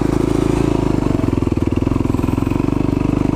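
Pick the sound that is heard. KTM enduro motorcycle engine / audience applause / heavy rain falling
KTM enduro motorcycle engine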